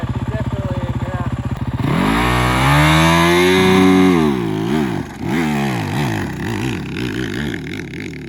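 A Yamaha WR450F dirt bike idles with a rapid thumping beat, then the engine revs hard and loud in fifth gear for a race start, pitch climbing and dipping through surging bursts close to the microphone.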